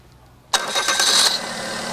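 The engine of a cogeneration unit, with its check engine light on, cranks and fires abruptly, then settles into a loud, close, rising roar before easing to a steady run.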